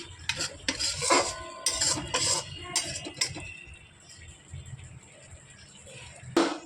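Garlic and spices stirred in a kadai for a Punjabi dhaba-style mutton kasha, with repeated scraping strokes and metallic clinks of the spoon against the pan, close and fairly loud, fading to a soft background sizzle.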